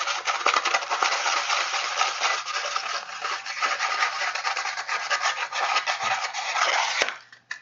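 Finish is rubbed off a piece of wooden furniture by hand, with steady, close scrubbing strokes that rasp along continuously before stopping with a small knock near the end.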